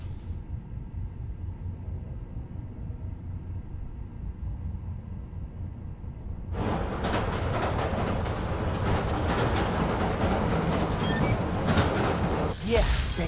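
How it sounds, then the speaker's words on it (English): A train in Spider-Man Miles Morales rolls past: low rumble at first, then a loud rush of rattling, clattering cars from about the middle onward, sustained and close, with a brief high squeal near the end. "Need to wait for the train to come by."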